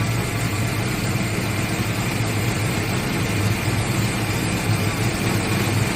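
A 1986 Ford Mustang with fresh spark plugs and wires sits at low idle, giving a steady, close, even engine hum with a constant low throb and no change in pitch.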